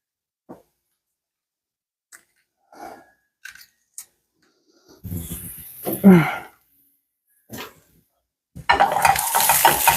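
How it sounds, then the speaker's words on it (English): Peppers and mushrooms sautéing in a pan: scattered light clinks and stirring scrapes, then a burst of sizzling that swells into steady loud frying hiss near the end. "Now I am going to saute the peppers and the mushrooms too."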